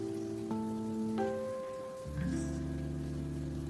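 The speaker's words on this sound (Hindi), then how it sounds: "बाहर बारिश आ रही है।" Rain falls outdoors as a faint, low-level steady patter in the background, with a soft humming tone running through it and no talk.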